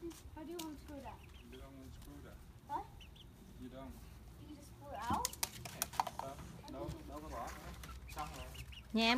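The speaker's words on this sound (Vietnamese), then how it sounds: "Nhà em có nuôi 2 con gà" Backyard chickens cluck intermittently at a household in America, with near, steady conversational talk from adults and children running over and around the birds throughout.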